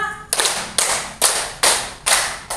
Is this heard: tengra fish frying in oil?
no